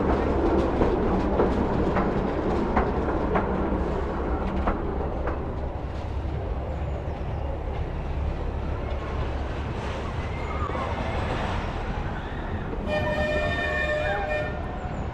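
The Pleasure Beach Express ride train in Blackpool rumbles steadily along the track with a constant low roar and faint rhythmic clacking, and a high tonal squeal or horn rises near the end.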